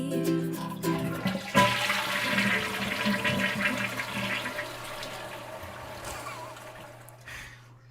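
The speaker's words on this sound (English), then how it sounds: "I think the toilet flushing is fitting" A toilet flushes: a loud rush of water swells in, then tapers into a fading trickle and refill as the tank drains, heard close and alone.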